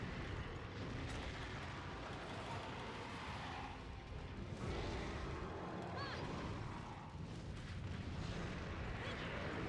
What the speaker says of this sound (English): These sounds are so ominous in the volcano